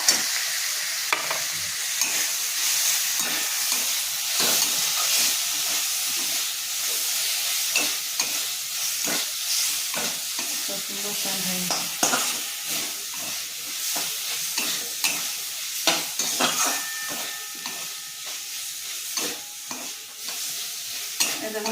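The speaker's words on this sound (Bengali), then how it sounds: "বন্ধুরা আমার কষানো হয়ে গেছে সর্ষে পোস্ত দিয়ে" Mustard paste, poppy seed and coconut paste fry in a pan with bottle gourd greens and prawns, a spatula scraping and stirring in frequent close strokes over a continuous sizzling hiss.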